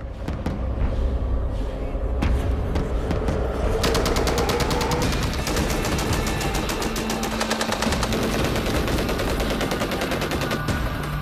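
Bren light machine gun firing a long sustained burst of about 30 rounds in a video game, rapid evenly spaced shots running loud and continuous through the whole stretch with a dense rattling texture.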